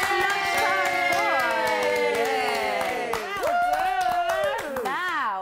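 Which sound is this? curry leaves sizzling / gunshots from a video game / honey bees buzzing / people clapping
people clapping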